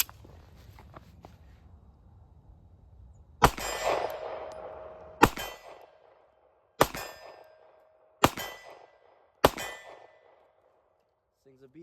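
A Ruger LCP Max pistol fired at distant targets, with five sharp reports spaced irregularly a second or two apart, each followed by a ringing metallic clang from the struck steel target, in an otherwise quiet setting.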